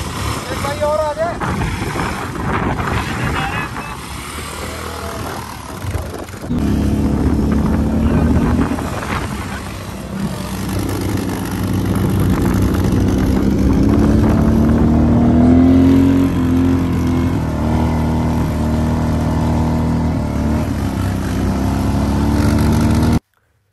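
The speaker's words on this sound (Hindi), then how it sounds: "तो गाइस यहाँ पे हम लोगों ने बाइक पूरा रेगिस्तान में बहुत गंदा चलाया यार" Motorbikes ridden and drifting across desert sand, engines droning and revving steadily in a loud, windy mix, with people talking throughout.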